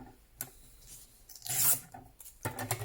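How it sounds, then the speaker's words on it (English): Paper postcard being trimmed for a book page journal, with short, close rasping cuts and scrapes in separate bursts, one louder hissing stroke in the middle. "So if we just tuck him under there like that and trim him up a bit more,"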